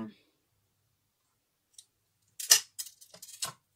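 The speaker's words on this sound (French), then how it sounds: "on découpe un petit bout, une longueur de ruban" Scissors cut a short length of ribbon with a few quick, crisp snips close by, following a faint click and near silence.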